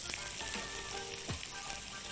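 Onion frying in butter in a pan makes a steady, close sizzle with crackling and a brief scrape of a spatula, no talk.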